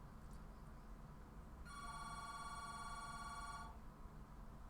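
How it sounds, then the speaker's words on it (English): A telephone bell rings in one sustained burst of about two seconds, moderately loud over steady background hum, with no talking. "And the phone is ringing."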